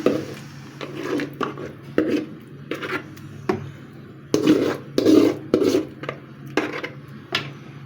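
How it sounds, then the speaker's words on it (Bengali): Homemade mango chutney goes into a pan of fried spices, with a spoon clinking and scraping against the metal in irregular bursts of several knocks and rubs, close and fairly quiet. "এখন দিয়ে দিচ্ছি আমি আমের চাটনিটা"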